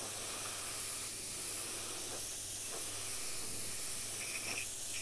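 Aerosol spray can applying a coat, heard as a steady, close, fairly loud hiss that runs through the whole stretch with only slight dips and no talk over it.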